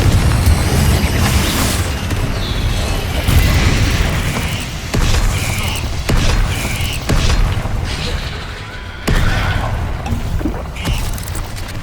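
Spell explosions from a Hogwarts wizard game, including Confringo blasts, land as a series of heavy booming bursts with rumbling crackle, several sharp onsets spaced a second or two apart over a continuous loud roar.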